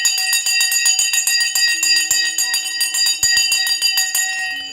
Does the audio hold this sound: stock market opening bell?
yes